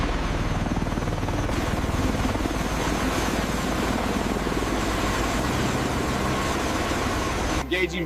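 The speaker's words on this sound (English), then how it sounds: "Engaging Boeing V-22 Osprey prop rotors for first time. Rotors turning, checking vibration, tracking, blade pitch control, tilt rotor operation." Prop rotors on a restored Boeing V-22 Osprey tiltrotor run up and turn, making a loud, continuous, throbbing rotor and engine roar that fills the scene before cutting off abruptly near the end.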